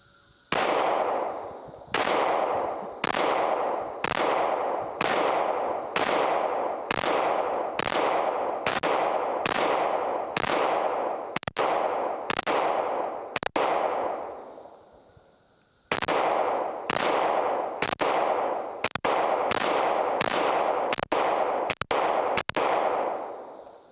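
A PSA 5.7 handgun fires at a target from 7 yards, sharp loud shots in two strings of about a dozen each, steady paced then quickening, separated by a short pause.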